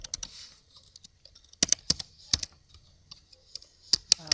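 Computer keyboard typing in bursts of quick clicks with short pauses, entering matrix commands, fairly close and clear with no talking.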